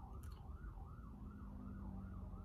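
A wailing ambulance siren rises and falls in steady repeating sweeps, carried over a low rumbling background, moderately distant and continuous.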